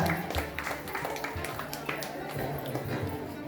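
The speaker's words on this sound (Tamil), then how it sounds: "எல்லாரும் கரகோஷப்படுங்க" Crowd applause for a family honored at a Vijayadasami temple abhishekam ceremony, a steady patter of clapping from the gathered devotees that carries on under a voice speaking throughout.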